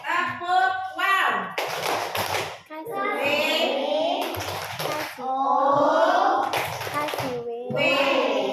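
Schoolchildren chant in unison with bursts of group hand clapping between phrases, a rhythmic call-and-response clapping chant close by.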